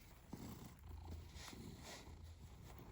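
House cat purring softly up close, a faint low rumbling rhythm repeating in slow cycles, with no other sounds over it.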